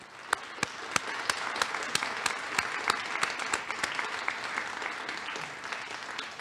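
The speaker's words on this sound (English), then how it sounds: "Let's give them a round of applause." An audience applauds graduates' families and friends at a Portage College convocation, with sharp individual claps standing out over a soft, steady bed of clapping that keeps an even level throughout.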